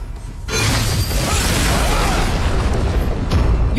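A tower is destroyed in the mobile game Arena of Valor, with a deep booming explosion and crumbling burst that fills the mix for several seconds, dense and loud with game sound layered underneath.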